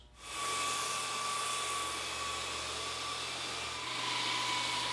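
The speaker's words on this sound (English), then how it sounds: "Now I'm working on the top, and I like to sand across the grain first" A belt sander starts up and grinds steadily across the grain of a wooden dining tabletop, a loud continuous whine with a high rasping hiss.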